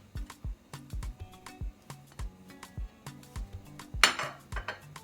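Ravioli filling with cilantro, red onion and seasoning being mixed in a bowl, a rhythmic series of close clinks and scrapes of a utensil against the bowl, ending in a louder clatter.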